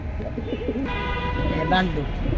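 Military breed pigeons cooing in low, rolling murmurs, with someone talking over them close by.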